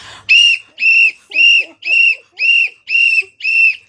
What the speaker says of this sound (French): C'est le sifflet.